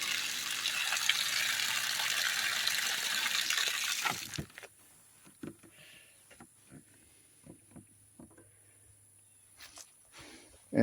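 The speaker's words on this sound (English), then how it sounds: "I'm going to go over here and turn on the water real quick." Water gushing from a tap at a rural well, a steady hissing flow for about four seconds that cuts off abruptly, followed by quiet with faint scattered knocks.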